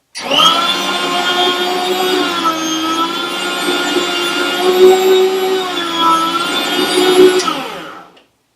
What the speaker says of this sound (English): on this meat slicer, the meat falls off the back